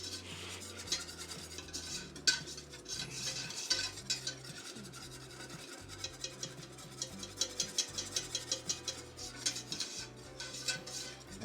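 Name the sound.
putting a pan in, pots and pans clatter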